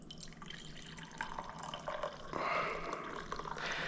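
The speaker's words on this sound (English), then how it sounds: "I'm going to pour a cup." A cup of coffee being poured on a quiet morning, liquid trickling and dripping at first, then a fuller stream filling the cup, close and fairly soft with no talking.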